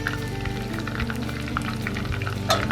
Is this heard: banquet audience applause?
no